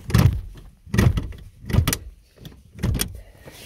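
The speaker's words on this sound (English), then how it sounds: "move your seat forward again on the runners first" Front seat of a Citroen C4 Picasso sliding forward on its runners, heard as four separate bursts of scraping, clunking movement about a second apart, close and fairly loud.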